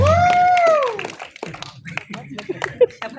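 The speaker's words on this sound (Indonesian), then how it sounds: "Beri tepuk tangan yang meriah untuk hadirnya Sita Permatasari sebagai Sita" An audience at a film press conference and screening applauds a cast member. A voice sounds briefly, then scattered, uneven clapping follows, close and moderately loud.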